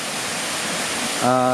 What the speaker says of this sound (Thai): วันนี้เสียงจะรบกวนนิดหนึ่งเพราะอยู่ใกล้น้ำตกนะครับ